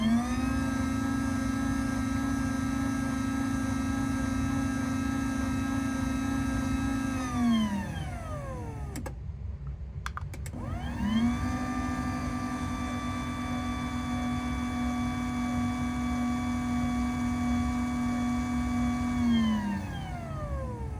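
A LiftMaster 2220L garage door opener motor runs with a steady whirring hum, winds down and stops briefly around the middle, then starts up again and runs on, close and with no talking.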